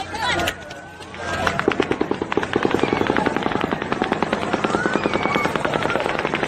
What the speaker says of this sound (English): a group of what will eventually be a line of 8 helicopters start to take off from Mavericks